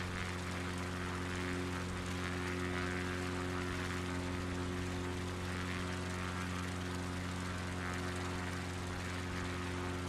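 A propeller airplane engine drones steadily in flight within a video game, a constant hum with strong low tonal bands and airy noise above, unbroken and without talk.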